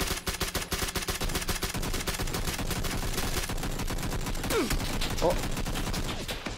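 Rapid gunfire with grenade blasts rattles through a PUBG match on Xbox One X, with dense bursts of shots repeating throughout and a player's brief exclamation over the din.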